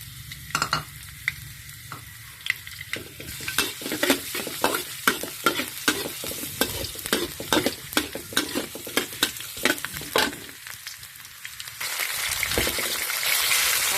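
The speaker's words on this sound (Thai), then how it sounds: "น้ำมันร้อนแล้วกระเทียมลงไป ผัดกระเทียมให้หอมก่อนนะคะทุกคน" Chopped garlic stir-fried in hot oil in a wok for a pork and bean stir-fry, with loud rapid scraping strokes of a spatula over a steady sizzle, then a broader hiss toward the end, with no talk.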